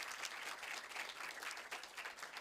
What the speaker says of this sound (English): And a huge round of applause to Alex for being such a wonderful host